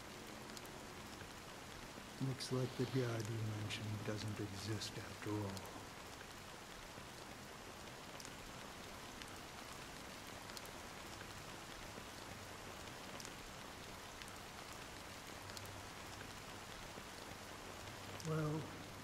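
Rain falls steadily in the video game Honkai: Star Rail, a soft constant patter of drops underneath a brief spoken line and quiet background music.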